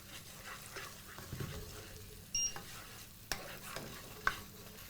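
Ground spices (cumin, coriander, red and Kashmiri chili powder) being stirred in a cooking pan, quiet scraping and soft sizzling with a few sharper utensil knocks against the pan.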